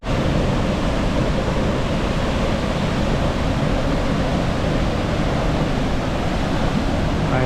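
Multnomah Falls in the Columbia River Gorge, Oregon, roaring steadily with a heavy flow of water, a dense, continuous broadband rush heard close and loud.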